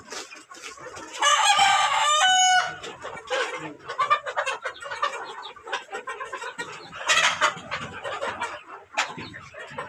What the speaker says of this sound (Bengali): এখানে অনেকগুলা মুরগি আছে।